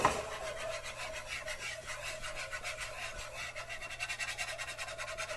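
A whisk scrapes steadily through a flour roux in a pan, giving a continuous rhythmic rasping that stays fairly close and even, with no voices over it.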